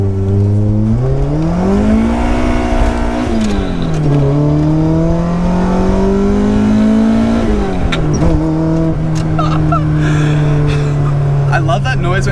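A Toyota KE70 with a 4AGE engine revs hard, its pitch climbing and dropping through gear changes into third, loud and close inside the cabin, with people talking over it.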